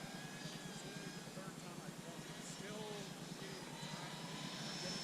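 A Freewing F-22 Raptor 90mm electric ducted-fan RC jet lines up to land, giving a steady, distant whine over broad wind-like noise, with faint voices in the background.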